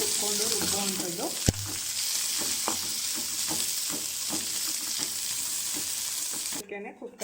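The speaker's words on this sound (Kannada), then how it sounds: "ಮಸಾಲೆನ ಸ್ವಲ್ಪ ಹುರ್ಕೊಂಡು ಅದನ್ನು ರುಬ್ಬಿದ್ರೆ ಚೆನ್ನಾಗಿರುತ್ತೆ" Spices roast in oil in a home kitchen, giving a continuous close sizzle broken by stirring clicks and scrapes, until a sudden cut near the end.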